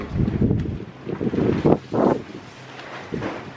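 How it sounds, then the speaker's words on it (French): Strong wind gusts buffet the microphone outdoors beside a backyard swimming pool, coming in uneven rushing bursts with brief lulls between them and no talking. "je vais sortir pour vous montrer à quel point il y a du vent"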